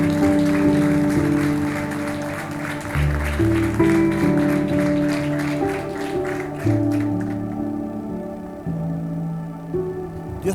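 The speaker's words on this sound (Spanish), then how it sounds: "Dele un aplauso" Congregation at a Casa de Pan church service in La Pampa clapping together, sustained applause mixed with organ or keyboard chords and music throughout, fairly loud and continuous before thinning toward the end.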